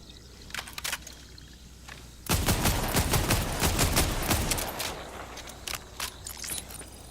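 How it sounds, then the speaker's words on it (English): Rapid gunfire in the video game Borderlands 4: sparse sharp shots at first, then a loud, dense volley of firing lasting several seconds before it thins back to scattered single shots. "Burst fire. That's an automatic no."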